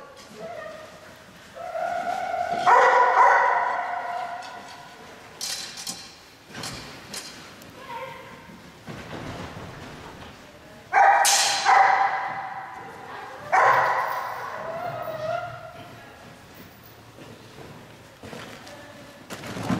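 A dog barks in loud, irregular bursts during agility training, several sharp clusters spread across the run, with a handler's voice calling out between them.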